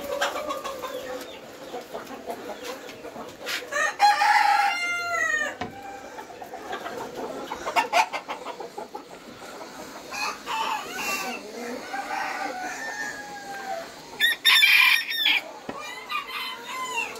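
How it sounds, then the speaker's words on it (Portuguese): Dark Brahma chickens clucking and crowing outdoors on a farm, a rooster's crow rising among repeated clucks and squawks from several birds, fairly near and continuous. "Esses são os nossos Brahmas Dark."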